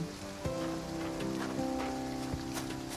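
Rain falling in the farming game Farm Together 2, a soft steady patter under gentle tonal ambient music, with no talking.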